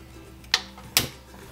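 A gas stove burner is switched on with two sharp igniter clicks about half a second apart, close and crisp over quiet kitchen background.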